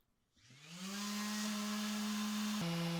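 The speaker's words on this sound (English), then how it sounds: "I put in my earphones and settled in for a sanding session" A power sander spins up on an old timber beam, its motor rising to a loud, steady whine that holds with a brief dip in pitch near the end, close by and with no talking.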